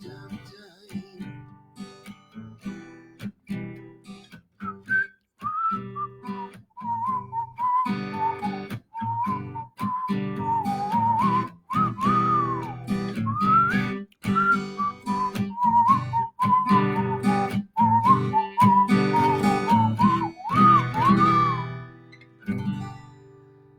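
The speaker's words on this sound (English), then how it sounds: "It's got that little whistling piece in there" A man whistles the melody of a song, a clear, sustained tune with short breaths between phrases, solo and close.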